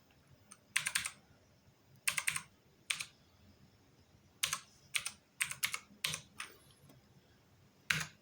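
Computer keyboard typed on with one hand while the other holds a camera, a slow, irregular run of quiet key clicks in small clusters with pauses between, close and alone.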